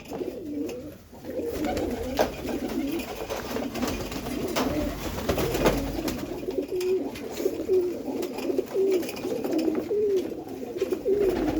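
Pigeons of a breed kept by fanciers, some with dyed feathers, coo steadily at close range, with low rolling calls repeating throughout.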